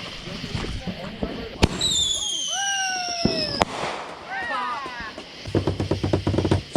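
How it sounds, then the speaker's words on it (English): Fireworks set off outdoors on the Fourth of July, with sharp pops and bangs followed by rising whistles and crackling bursts close by, while people talk and shout around them. "He's got firework sticks."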